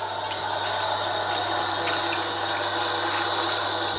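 Bitter leaves being washed in water make a steady, continuous sloshing and rushing wash of liquid, loud and close, with no pauses.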